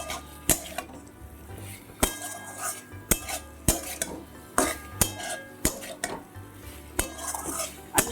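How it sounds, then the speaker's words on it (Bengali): Potatoes get stirred in a pan over high heat while cooking an egg curry, a spoon scraping and knocking against the metal in sharp, regular clinks about once a second under a soft sizzle. "আলুগুলো এইভাবে কিছুক্ষণ আমি নাড়িয়ে চাড়িয়ে নেব।"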